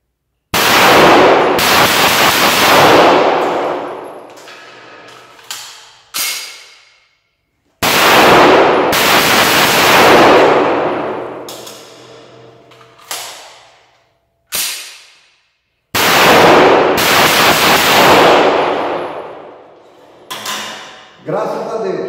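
Taurus PT99 and Bersa .380 pistols fire reloaded ammunition, heard as three loud, sharp reports spaced several seconds apart, each followed by ringing echoes and lighter clacks.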